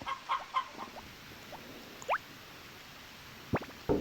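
Chickens in a hen house in the Harvest Moon farming video game, with a few short, quiet clucks and chirps scattered over soft background hiss, then a couple of sharper blips near the end.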